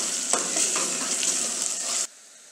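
Onions sautéing with ginger-garlic paste for an onion tomato gravy, a bright steady sizzle with a few stirring scrapes, close by, cutting off abruptly near the end.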